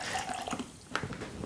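Water poured into a rock tumbler barrel over steel shot gives a steady close splashing trickle, with a brief brighter splash near the end.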